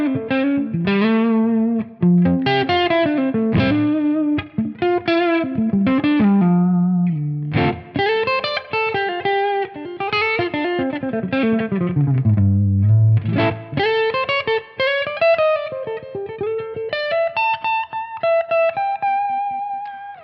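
Electric guitar played on the neck pickup through a Sir Badge Double Cream Tonex tone, a run of clean-to-lightly driven melodic notes and bends with sustained tails, up close and alone.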